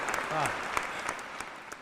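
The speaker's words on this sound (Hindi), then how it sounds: "मेरे कवि मित्रों से, अनुजों से कि इन श्रोताओं के लिए तालियां बजाएं, आप बजाएं" Audience applause at a Hindi comic poetry recital, a steady wash of clapping with a few sharper claps standing out, while a voice speaks briefly over it.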